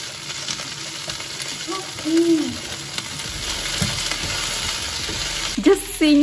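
Bhindi (okra) frying in extra oil with cumin seeds and green chilies, a constant sizzling hiss with a few sharp pops and clatters toward the end, no talking.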